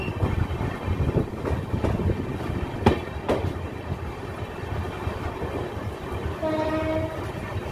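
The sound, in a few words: LHB express train running, Kolkata Radhikapur Express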